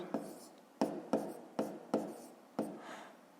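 A pen writes in a notebook during a fifth-grade maths exercise: six short scratchy strokes in quick, uneven succession, close and quiet, with no voices over them.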